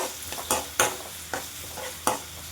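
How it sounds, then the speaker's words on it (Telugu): Sliced onions and green chillies fry in oil while being stirred, giving soft sizzling broken by several distinct scraping strokes of a spoon against the pan. "సన్నగా కట్ చేసుకున్న ఉల్లిపాయలు పచ్చిమిర్చి యాడ్ చేసుకోవాలి. ఉల్లిపాయలు బ్రౌన్ కలర్ వచ్చే వరకు ఫ్రై చేసుకోవాలి"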